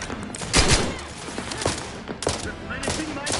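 Gunfire in the video game The Outer Worlds 2 comes as several loud, close bursts and separate shots in an irregular rhythm, with a game voice speaking in between.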